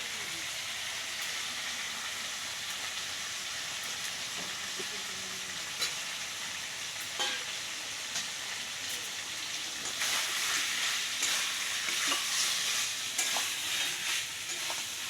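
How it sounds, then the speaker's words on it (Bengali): Chicken curry hisses and sizzles steadily in a hot pan as fried potatoes are added and stirred in. Scraping stir strokes come through, and the sizzle grows louder and denser toward the end. "তো বন্ধুরা, আমি যে ভেজে রেখেছিলাম আলুটা, ওটা এখন আমি দিয়ে দেবো"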